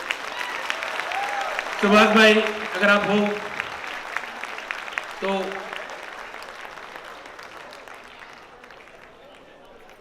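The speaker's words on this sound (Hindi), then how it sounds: "एक बड़ी जोरदार तालियां होना चाहिए।" Audience applause after a theatre performance, moderate clapping running under a speaker's voice, which rises in brief spoken bursts before the clapping fades out toward the end.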